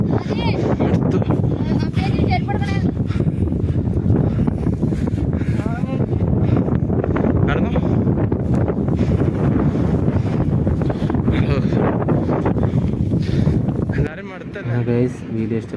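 Strong wind blows across a mountain top at Munnar in Idukki, buffeting the microphone with loud, continuous roaring gusts that ease briefly near the end. Voices are faintly mixed in.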